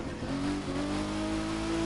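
A touring car drifting on ice in The Crew 2 holds a steady engine drone with a sustained whining tone, close and moderately loud, with no talk over it.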